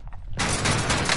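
Heavy gunfire in a video game erupts abruptly after a moment of quiet, holding as a dense, loud continuous blast for about a second.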